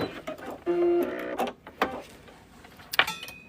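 A sewing machine backstitches through flex foam and lining while a boxy bag is assembled, giving a short steady mechanical whir with a clear hum, surrounded by handling clatter and small clicks, close and moderately loud.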